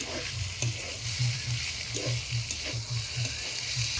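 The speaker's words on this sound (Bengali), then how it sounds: "এখন এখানে মাছ আর টমেটো দিয়ে নেড়ে চেড়ে নামিয়ে দেবো।" A spatula stirs and scrapes through fried vegetables with fish and tomato in a wok, giving repeated rhythmic knocks over a steady close sizzle of hot oil, with no voices.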